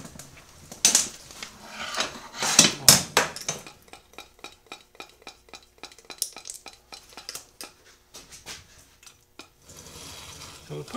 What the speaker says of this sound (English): So that's the bearings on there. They're really noisy because they're loose.